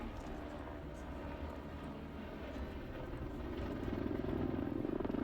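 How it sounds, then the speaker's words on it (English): A helicopter carrying an empty bucket approaches, its rotor chop and engine drone growing steadily louder, becoming a strong pulsing throb near the end. "The helicopter approaches carrying an empty bucket"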